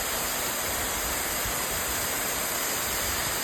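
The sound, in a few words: waterfall at night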